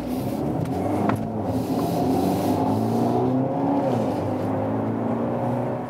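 A BMW X1 facelift with a 2-liter four-cylinder engine accelerating, a loud, close engine note rising steadily in pitch through the gears with a smooth whirring tone and no talking.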